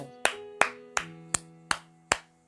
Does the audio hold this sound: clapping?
yes